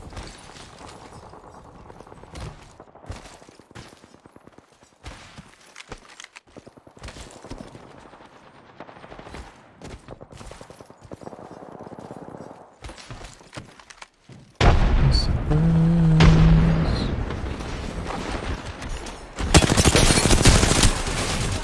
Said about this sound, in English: Stop shooting. You have so many bullets.